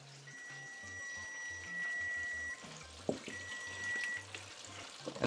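Chicken deep frying in hot oil gives a steady, fairly quiet sizzle and bubble, with a few faint clinks and pulses over it and no voices.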